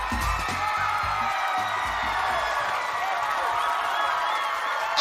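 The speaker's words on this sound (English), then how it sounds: "And the crowd goes wild" A studio crowd on Nickelodeon's Guts cheers and applauds in a broad, sustained roar of whoops and clapping, with some louder low thumps at the start before it settles into a steady din.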